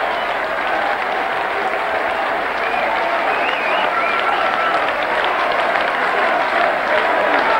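Sustained applause from a darts audience greeting the Scot Les Wallace as the new Embassy World Professional Darts Champion at the 1997 BDO final. Dense, steady clapping fills the hall throughout, with faint crowd murmur underneath.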